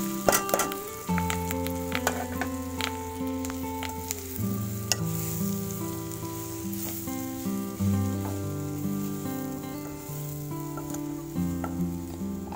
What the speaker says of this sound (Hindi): अब इसमें ये पिसी हुई चना दाल डालूंगी।